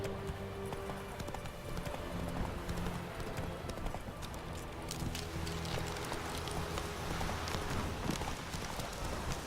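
Roach, the horse in The Witcher 3, gallops with a steady, rapid clip-clop of hooves over a busy game soundscape of continuous background noise, with no one speaking.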